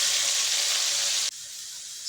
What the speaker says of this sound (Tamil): சோம்பு கருவேப்பிலை போட்டு வெங்காயத்தை போட்டு வதக்கிட்டு இஞ்சி பூண்டு பேஸ்ட் போடுங்க